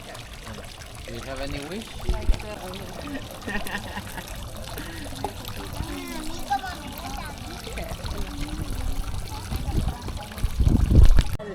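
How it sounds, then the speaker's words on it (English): A wishing fountain in Antigua, Guatemala trickles and splashes steadily underneath people talking nearby, including a voice, with a louder burst of splashing toward the end. "The only fountain to make wishes here"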